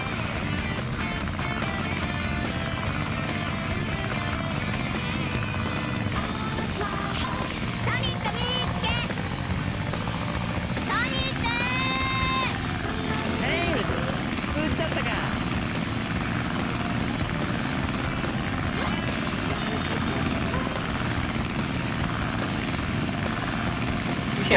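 Steady airplane engine drone from the Sonic Adventure DX video game, loud and unbroken throughout, with a voice talking over it and brief whooshing game effects layered on top.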